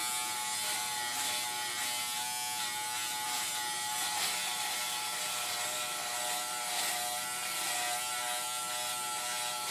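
Remington F3 foil electric shaver buzzing steadily as it cuts hair, a close, continuous rattling motor hum that lasts throughout with no speech.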